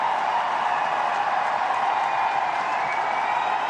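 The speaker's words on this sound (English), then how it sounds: "Indian fans cheer the ball to the rope" A cricket crowd at the Gabba in Brisbane, Australia, cheering as the ball runs to the boundary rope, a dense, continuous roar of distant voices and applause holding steady throughout.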